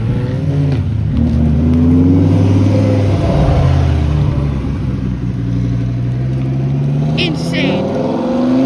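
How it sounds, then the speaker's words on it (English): Lamborghini Huracan and Porsche 911 GT3 RS accelerating away from a New Jersey cars and coffee meet, engines revving loud and close before fading off, with people talking over them. "Lamborghini Huracan and Porsche 911 GT3 RS leaving."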